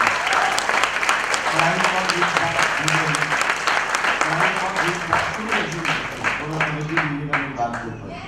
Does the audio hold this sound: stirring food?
no